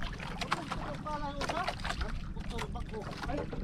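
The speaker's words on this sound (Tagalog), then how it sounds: "magsasagwan tayo." A boat with a broken engine is paddled by hand out at sea, with sloshing water and wind blowing constantly and voices talking over it.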